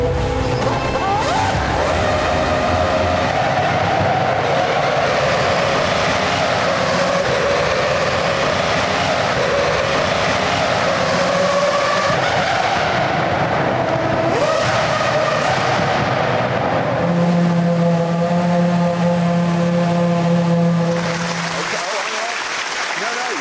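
A Toyota Formula One car screams past, a loud high-revving engine note rising and swelling as it approaches, then shifting sharply lower as it passes and fades, with crowd-like noise underneath.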